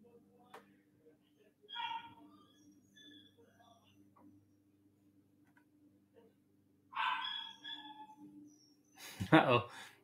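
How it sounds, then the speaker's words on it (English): Puppies yelping and barking in short bursts, a couple of separate outbursts with a louder, harsher cluster near the end, heard over a quiet indoor hum in a garage setting. "puppies are yelling"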